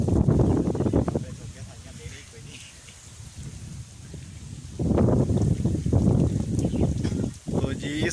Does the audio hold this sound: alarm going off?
no